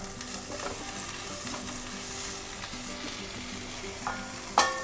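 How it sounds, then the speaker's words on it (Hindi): Chopped tomatoes stirred into poha masala in a pan, a steady close sizzle with occasional spoon scrapes and a louder knock near the end. "अब मैं इसमें कटे हुए टमाटर डाल देती हूँ। इसे अच्छी तरह से मिक्स कर लेते हैं।"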